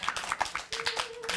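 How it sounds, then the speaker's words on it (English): Short, scattered clapping from a small group at a battle-of-the-bands show, with distinct individual claps and voices talking and calling out over it. "Wow, round of applause for Gray."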